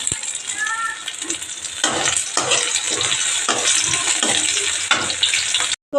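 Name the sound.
frying amudi fish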